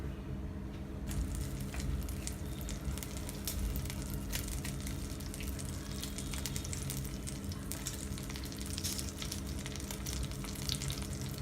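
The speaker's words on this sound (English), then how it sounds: "Heat 2 tablespoons of butter and 1 teaspoon of oil." Butter and a little oil heat in a pan for a restaurant-style paneer butter masala, giving a steady, close, even sizzle with faint crackles throughout and no voices.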